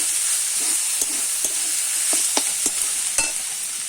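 Chopped banana flower goes into a pan of fried spices for a Bengali mocha ghonto, giving a steady close hiss of frying with a few soft stirring scrapes and taps.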